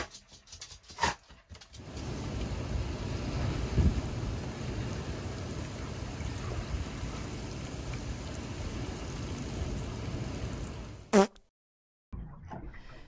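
Steady heavy rain drums outside a narrowboat during a storm, with low rumbles of thunder rolling beneath the continuous wash. It ends with an abrupt sharp knock before a brief silence.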